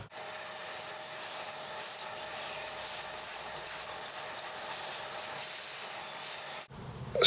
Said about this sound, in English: I'm going to get the vacuum onto this before I do anything else